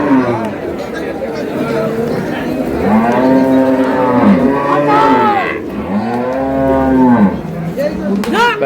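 A Sahiwal cow with her calf lows repeatedly at a busy cattle market, long loud moos rising and falling over a steady murmur of crowd chatter.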